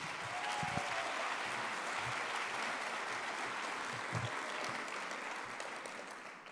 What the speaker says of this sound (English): Not as good as the applause for Vanessa, but I'll take it.